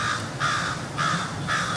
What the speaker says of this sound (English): sorry about the noise if you hear like some weird birds or whatever.